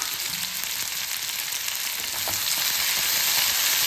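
Onion, green chili and cut okra sauté in a pan with a steady, close sizzle and light stirring throughout, no talking.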